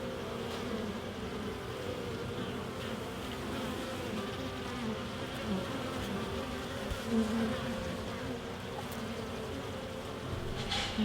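Dense, steady drone of honey bees buzzing inside a hive as the comb is being built out, continuous and close throughout with no speech.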